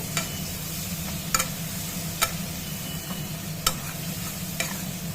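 Spices are stirred into taro stolons frying with prawns, a soft steady sizzle punctuated by several sharp clicks of the spatula against the pan, with no voices.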